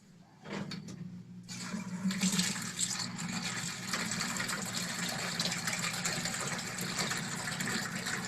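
Water pours in a steady, continuous gush into a container during a volumetric flow measurement, starting after a brief quieter moment and then holding a loud, even rushing roar throughout.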